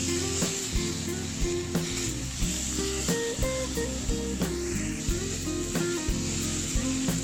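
Fresh shrimp and minced pork stir-fried for kaprao, with a steady close sizzle, regular scraping strokes of a spatula against the pan and a low background hum, no talking.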